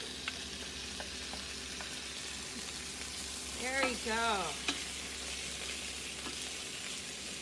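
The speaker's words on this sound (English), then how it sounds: "Ooh, and you hear that sizzle?" Vegetables sauté in a hot pan with a soft, continuous sizzle and occasional stirring clicks, while a person speaks briefly partway through.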